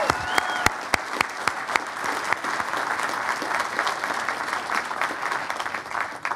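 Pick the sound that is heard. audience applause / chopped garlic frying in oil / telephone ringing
audience applause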